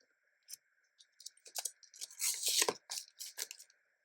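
Planner stickers peel off their backing sheet in short crinkly tearing strips, several quick close pulls separated by brief pauses, one longer peel in the middle.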